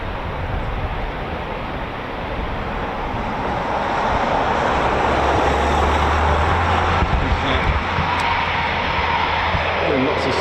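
A Eurofighter Typhoon FGR4 jet flying circuits at RAF Coningsby produces a loud, continuous roar that builds steadily and holds, with a deep rumble underneath.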